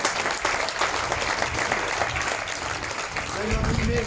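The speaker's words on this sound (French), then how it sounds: "Allez, on les applaudit très très fort." An audience at a bikers' blessing applauds heartily in sustained, dense clapping, with voices mixed in and rising near the end.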